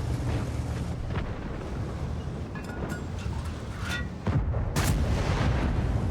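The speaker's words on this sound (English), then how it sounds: "This gun feels so much nicer with premium rounds." Tank gun of the 60TP in World of Tanks firing premium rounds, heavy booms among a rumbling engine and wind-like battle noise, with a big shot near the end, no speech.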